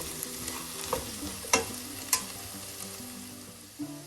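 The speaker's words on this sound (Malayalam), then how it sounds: "എല്ലാം കൂടെ ഒന്ന് മിക്സ് ചെയ്യാം. ഹൈ ഫ്ലെയിമിലിട്ട് തന്നെ" Potato and okra stir fry being stirred on high flame, a steady sizzle under a few scrapes and clinks of the spoon against the pan, close and alone.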